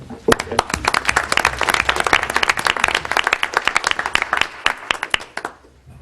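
An audience at a board meeting claps in a dense burst of applause that lasts several seconds before tapering off.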